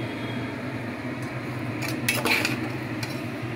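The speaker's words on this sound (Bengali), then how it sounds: "এবার মশলাটাকে একটু নাড়িয়ে দিচ্ছি, সামান্য জল দিয়ে নাড়িয়ে দিচ্ছি" A spoon scrapes and clinks against a pan while spice paste loosened with a little water is stirred, a low steady background broken by a short cluster of sharper metallic clinks near the end.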